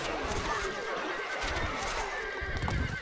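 A horse neighs and whinnies in the medieval strategy game Stronghold: Crusader, with hoof clip-clop and dense game ambience around it; the sound stays steady and fairly loud throughout.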